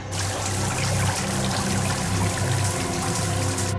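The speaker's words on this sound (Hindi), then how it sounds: "सबमरीन में दरार आ गई सर, पानी तेजी से नीचे आ रहा है।" Water rushes into a cracked submarine in a TV crime drama, a loud, steady, dense roar of pouring liquid that runs unbroken throughout, with no voices over it.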